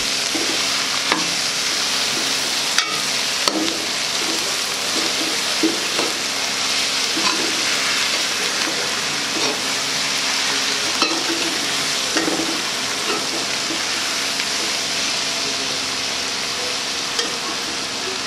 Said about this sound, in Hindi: अच्छे तरीके से मिक्स करके फ्राई करेंगे।